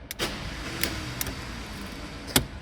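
A car with a failed starter motor is turned over without starting: a few sharp, isolated clacks and short mechanical bursts spread over a couple of seconds, with a quiet background between them and no engine catching.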